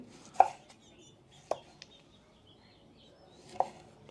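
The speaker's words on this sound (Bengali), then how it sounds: "ব্যাস এই যে টমেটোগুলো কেটে নিচ্ছি" A knife cuts ripe tomatoes for a salad on a board, three distinct close thuds spaced about a second or two apart, with faint softer taps between them in an otherwise quiet room.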